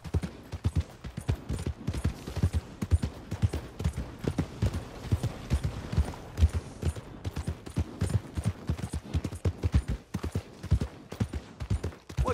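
Horse hooves clip-clopping under a rider, a steady, close, continuous rhythm of hoof strikes with no talk.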